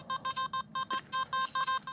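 Metal detector signal tone while hunting coins at a playground, a rapid series of about a dozen short, bright electronic beeps in an uneven stuttering rhythm, close and clear with no talking.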